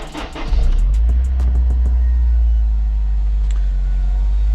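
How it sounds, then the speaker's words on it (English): A car engine with a new K&N air filter cold starts, cranking with a few rapid clicks and catching, then settles into a steady, loud, deep idle rumble close by. "Our little cold start. It does sound a little bit louder."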